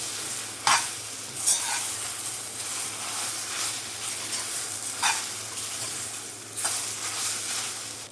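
Gongura leaves fry in a pan for pickle, a quiet, continuous sizzle with occasional louder scraping strokes as a spoon stirs them every second or few seconds.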